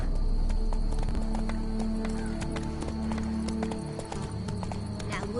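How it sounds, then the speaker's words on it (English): Horse hooves clip-clop in The Witcher 3, a steady run of hoof beats under game music and a low drone, with a horse whinnying faintly; a voice speaks briefly over the hoof beats. "Whoa there, Roach"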